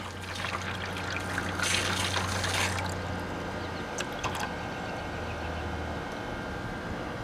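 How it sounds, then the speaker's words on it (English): An RV faucet running water after the pump pressurized the system, a steady close splashing stream that eases off after a few seconds, with a low pump hum underneath. "Now I'm going to go ahead and turn this faucet on and let it run for a second."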